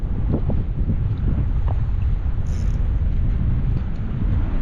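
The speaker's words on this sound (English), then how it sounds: "Windy as all get out" Steady wind buffeting a microphone outdoors, a continuous low rumble with gusty fluctuations and no speech throughout.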